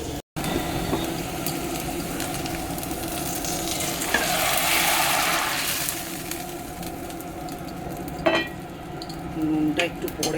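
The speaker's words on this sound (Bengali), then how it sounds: "আলু ভাজা সব মেখে রেখেছি, হলুদ টলুদ দিয়ে এবার আলুটা ভাজবো।" Potatoes coated in turmeric frying with onion and chilli in a pan, a continuous close sizzle that swells midway, with a few scraping stirs and knocks.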